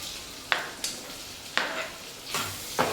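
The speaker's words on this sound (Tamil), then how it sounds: "தக்காளி நல்லா வதங்கணும்." Tomatoes sautéing in a hot pan, a steady low sizzle broken by several sharp scraping stirs of a spoon against the metal, close and fairly loud with no talking.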